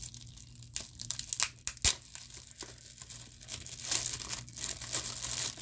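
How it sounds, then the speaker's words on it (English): Saran wrap and bubble wrap being pulled off a package, close crinkling and crackling plastic in irregular bursts with a few sharp snaps and tearing sounds, no voices. "you got bubble wrap plus saran wrap here. Take that saran wrap off."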